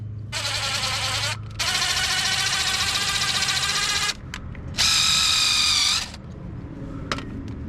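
Mechanical ratcheting from a threading die being run up dirty, greased bolt threads during a Permagreen Magnum engine and spacer install, heard as three loud sustained bursts with short pauses between them and no talk.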